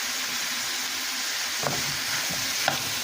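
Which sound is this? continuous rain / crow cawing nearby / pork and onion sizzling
pork and onion sizzling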